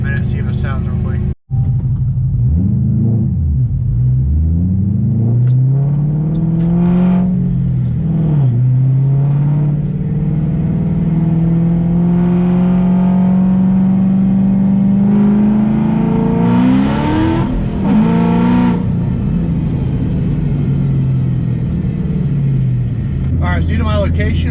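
A Ford Shelby GT500 with a rear seat delete and sound deadening climbs through a short acceleration pull, its engine note rising steadily from a low rumble to a loud, sustained roar before dropping off, heard close from inside the car.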